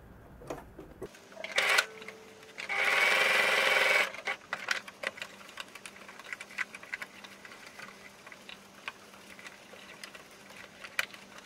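A sewing machine topstitches along the edge of a zipped fabric pouch in a short burst, then a longer steady run of rapid stitching, followed by light clicks and handling noises, close and alone.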